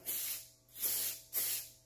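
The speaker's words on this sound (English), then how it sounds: "we're just going to simply take some of this sensor clean, which is good for mass airflow sensor cleaners" Mass airflow sensor cleaner sprayed onto the sensor of a Ford F-150 air intake: three short hissing aerosol bursts, close and fairly loud, with brief pauses between them and no talking.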